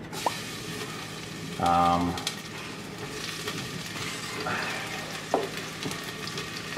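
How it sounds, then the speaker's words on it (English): Garlic and onion go into hot oil for campanelle alla vodka, a moderate sizzle with a brief louder burst of clattering and stirring near the start, then a softer steady crackle with occasional utensil clicks. "Now this is where you're gonna add your garlic and your onion."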